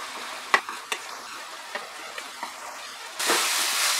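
Chicken filling fries and sizzles in a pan with a steady hiss, broken by several sharp scraping stirs of a spoon against the pan, then a louder burst of sizzling toward the end.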